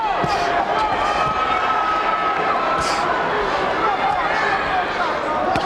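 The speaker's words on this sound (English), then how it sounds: "The crowd chanting Paulie." Boxing arena crowd at the Johnny Tapia vs Paulie Ayala fight chanting Paulie, a steady dense roar of many voices sustained throughout with rhythmic swells, loud and continuous.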